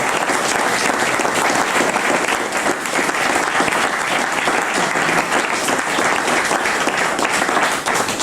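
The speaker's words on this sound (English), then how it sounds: "I think we should give them a round of applause." An audience at an evening chat event with a founder member of Thin Lizzy in Belfast gives a sustained round of applause, dense and even clapping filling the room from start to finish with no voices.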